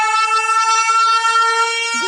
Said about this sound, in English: Who the hell got the siren on?